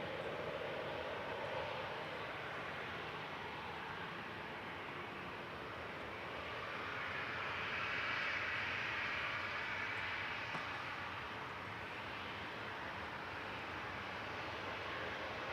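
Airliner on approach to land at Manchester Airport, a distant, fairly faint jet roar that swells gently toward the middle of the stretch and then eases off, alone without talk.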